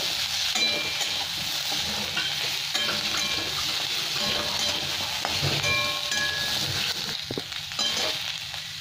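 Chopped bell pepper (capsicum) sizzles steadily in a hot pan for a dry egg chilli, with a continuous loud frying hiss and occasional stirring scrapes close by.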